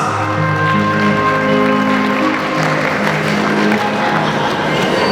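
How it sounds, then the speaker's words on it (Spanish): Wedding guests clapping in a loud reception hall, a steady wash of applause mixed with crowd noise and sustained background music, continuous and close throughout. "Los aplausos, señores, por favor, que las palmas."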